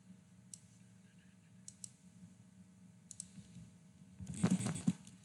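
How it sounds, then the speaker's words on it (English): Computer keyboard clicks come in scattered light taps, then a faster, louder burst of typing near the end, over a low steady hum with faint speech in the background. "I know that typing gets really loud as well."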